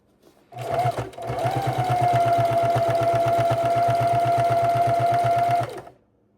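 A sewing machine runs steadily for about five seconds, stitching binding onto a quilt, with a rapid even needle rhythm and a constant motor hum, close and loud, starting and stopping cleanly.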